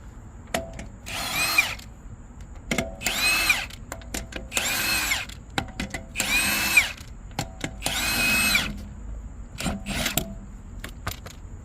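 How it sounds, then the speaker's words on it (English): A cordless drill spins up in several short bursts, drilling out a Phillips head screw in a car tire with whirring and grinding, separated by clicks and brief pauses; close by. "Since it's a Phillip head, I'm just going to drill it out."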